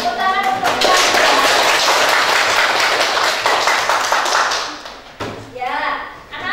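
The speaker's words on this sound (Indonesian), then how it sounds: "Tepuk tangan untuk kalian." A primary school classroom of children claps for student groups, a loud burst of dense applause lasting several seconds that then thins to scattered claps, with children's voices and a teacher's voice around it.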